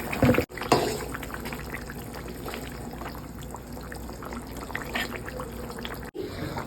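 Tangra fish are added to a simmering curry with potatoes in a home kitchen: a wet splash and clatter at the start, then a continuous close bubbling and liquid burble, with no talk.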